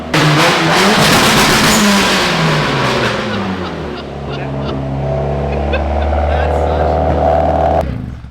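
A loud Volkswagen 1.8T engine swapped into a BMW revs hard and holds against the rev limiter, a steady buzzing drone with stuttering cutouts, running continuously up close.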